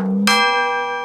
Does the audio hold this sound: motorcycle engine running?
no